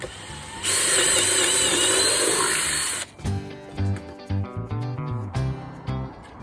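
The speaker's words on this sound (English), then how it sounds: "drill some larger holes in the bottom to allow any water that gets in to run out" A power drill whines loudly for a couple of seconds while drilling drainage holes in the bottom of a wooden bird nest box, then stops, followed by a run of knocking and rattling handling noises.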